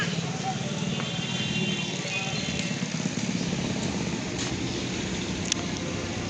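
A car engine running during a reversing practice in a driving lesson, a low steady rumble close by with faint mechanical ticks, while a person talks over it.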